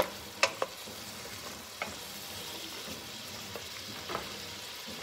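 Zucchini is stirred into a seafood fish stew in a pot, with a low, quiet sizzle and a few sharp utensil clicks against the pot near the start.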